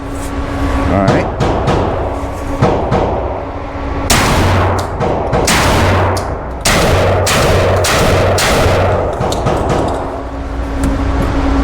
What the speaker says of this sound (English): this is a smooth shooting shotgun